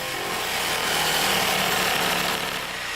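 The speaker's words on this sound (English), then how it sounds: "Follow the line and saw the hole for the sink." A jigsaw cuts a sink opening in a kitchen countertop, giving a loud, steady buzzing rasp that runs without a break, close by and with no voices.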